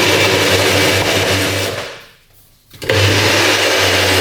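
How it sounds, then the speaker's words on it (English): A loud blender whirs steadily, cuts out for a moment, then roars back at full power. "All right, we're going to blend it now and then strain it."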